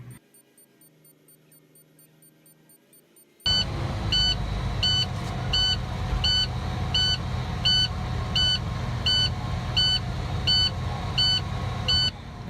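A diesel truck engine roars steadily at high idle during an air brake system test, starting suddenly after a few quiet seconds and running loud and close, with a regular series of sharp electronic warning beeps repeating over the engine noise.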